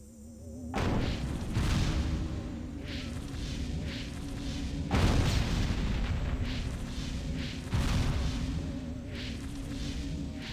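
Booming gunfire and explosions from the video game Destroy All Humans burst repeatedly over a continuous rumbling background, with several loud hits spaced a few seconds apart.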